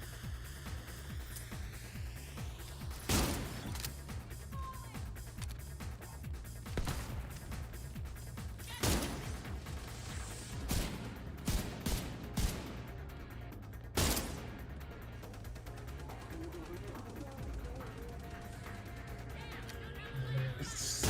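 Gunfire from a mounted gun in a video game, with loud broadband shots and bursts cracking out irregularly over a constant low rumble and faint talk.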